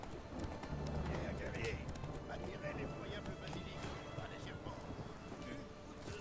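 Galloping horse hooves in The Witcher 3 video game, a steady clip-clop rhythm with an occasional whinny, heard up close under continuous game ambience and someone talking.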